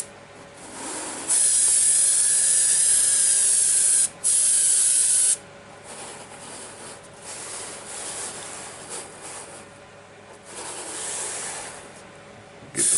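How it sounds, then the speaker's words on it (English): A spray can hisses close up while laying a thin coat on a Union Pacific SD70 model locomotive, two loud bursts separated by a short gap, then softer intermittent sprays and quiet handling. "so we're just gonna lightly spray a nice thin coat"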